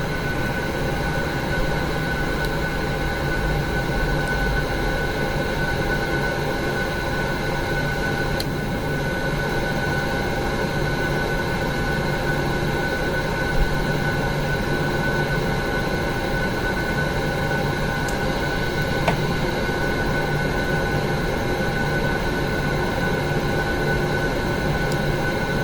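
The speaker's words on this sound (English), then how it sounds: "So engine number 1 is coming up." Airliner engine number 1 spooling up in the Prepar3D flight simulator, a steady continuous roar and whine holding at an even level throughout, with no talk.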